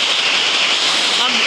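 Loud, close storm rain pouring down without a break, a thick and constant roar of falling water at one level, with faint speech buried under it near the end.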